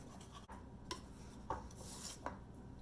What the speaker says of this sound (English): And then just whisk that in.